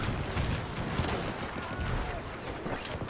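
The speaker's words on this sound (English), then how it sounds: "Jesus Christ, I'm being blown up by my own artillery." Artillery shells explode in the WW1 video game Between Empires, a dense, rumbling barrage of blasts and booms rolling continuously over the whole stretch.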